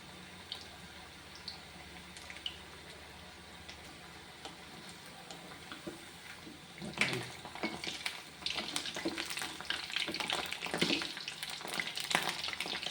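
Cauliflower pakoda 65 fries in hot oil, a quiet crackle at first, then bubbling and sizzling in dense bursts from the middle onward as the batter cooks, with no voices.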